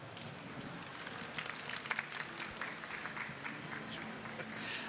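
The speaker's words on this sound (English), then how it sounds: "Round of applause for Lisa, everyone." An event audience applauding a speaker at a conference, a faint, steady wash of many hands clapping from a distance, evenly sustained throughout.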